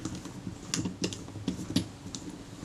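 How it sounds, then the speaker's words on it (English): Loose lens hood on a Kodak Retina Reflex camera rattling, a quick run of light, close clicking taps in an irregular rhythm. "you'll notice that this lens hood there is quite rattly"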